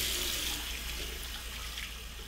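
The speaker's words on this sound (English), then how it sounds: "over to the sink to wash out my palette" Water runs steadily from a sink tap as a paint palette is rinsed out, a continuous broadband splashing hiss that stays fairly close and even for the whole moment, with no voices over it.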